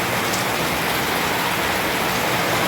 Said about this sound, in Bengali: আপনারা দেখতেই পাচ্ছেন কেমন পরিমাণে মুসুলধারা বৃষ্টি হচ্ছে